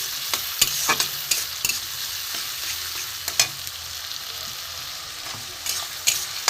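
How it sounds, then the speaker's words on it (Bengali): Finely chopped onion and tomato fry on low heat in a pan with a steady, close sizzle, while a utensil repeatedly scrapes and taps against the pan as it is stirred, and no voices are heard. "পেঁয়াজ টমেটো ভাজা হচ্ছে"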